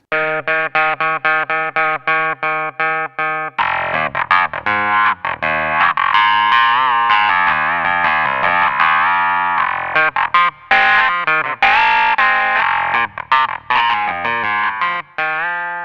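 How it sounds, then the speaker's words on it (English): Crumar Mojo 61 plays a clavinet sound detuned with the run/stop button, giving choppy staccato chords and funky riffs with a wavering, chorus-like shimmer, loud and close, without talk. "the run and stop button just detunes your clavinet"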